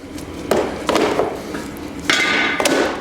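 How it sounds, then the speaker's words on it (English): A heavy metal catch basin grate set back into its frame on a garage floor, giving two or three sharp, loud clanking impacts with a short ringing tail, close by and with no talk. "it's time to put the grate back on. This thing's pretty heavy"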